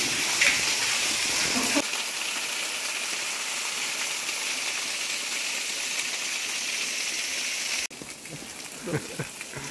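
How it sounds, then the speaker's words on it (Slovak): Rain pours inside a tunnel on Madeira in winter: a loud, steady hissing downpour begins abruptly, holds for several seconds, then drops away sharply as a voice and softer sounds follow. "tak tu prší."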